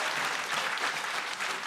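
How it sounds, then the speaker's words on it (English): A brief, dense burst of crowd applause fills a political party's regional congress hall, with many hands clapping at once in a steady wash. "give yourselves a round of applause"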